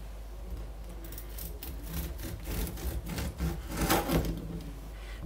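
A knife saws through a loaf of fruit bread studded with nuts, giving repeated rough rubbing strokes of the blade through crust and crumb that grow louder toward the end, close up with no talking.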